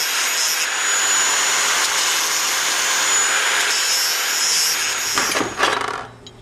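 A grinder whines steadily against a Delrin transmission shifter piece for a 5-speed shifter, a loud continuous high-pitched grind that ends with a few clunks and then winds down.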